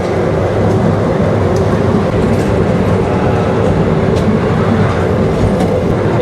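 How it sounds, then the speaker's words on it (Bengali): Amusement park bullet train ride at Dana Park in Naogaon rolling past close by, a loud continuous rumble with rhythmic wheel clatter and no voices. "আমার পিছনে এটা হচ্ছে এই ডানা পার্কের বুলেট ট্রেন।"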